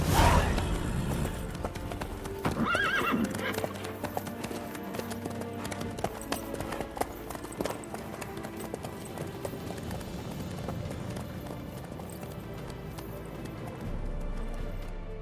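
Horse hooves clip-clop in a steady, brisk rhythm throughout in The Witcher 3 on PC, close and continuous under in-game music and ambience.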